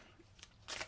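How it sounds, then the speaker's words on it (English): Tarot card deck being shuffled by hand: a couple of quick papery riffles and swishes, close but soft, the second burst louder than the first. "So I continue and finish shuffling."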